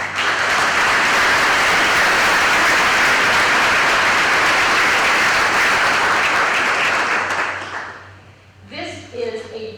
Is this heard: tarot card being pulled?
no